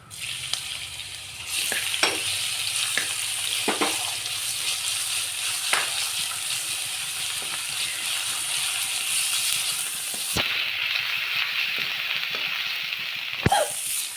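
Crushed ginger, garlic and green chilli fry with cardamom and cloves for prawn biryani, a steady close sizzle with intermittent spoon taps and scrapes against the pan, continuing without talk.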